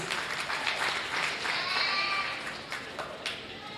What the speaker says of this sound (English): Let's give Ayla Henning a very nice round of applause, please.